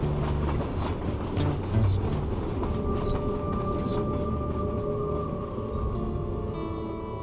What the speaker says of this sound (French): La plupart des wagons de marchandises qui roulent sur ces voies sont remplis de jus d'orange